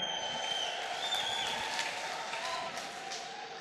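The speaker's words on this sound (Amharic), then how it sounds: "እልልታ ለጌታ፣ ጭብጨባ ለጌታ።" A church congregation claps for the Lord in a sustained wash of applause, mixed with cheering and ululation, steady and then gradually fading.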